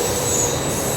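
Train running through Italy, a steady loud rumble of wheels and carriage noise with a faint high squeal riding over it, continuous for about a second.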